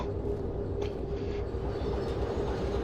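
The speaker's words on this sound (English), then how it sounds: "And I think we need to stop the train right now." Steady low rumble of a train running in Derail Valley, a continuous rolling drone with faint clanks over the top and no voices.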